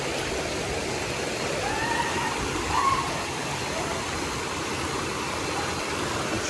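A river rushes steadily at its lower reach at El Chorrón in Lempira, Honduras. The water gives an even, broad roar with no clear breaks, moderately loud and close.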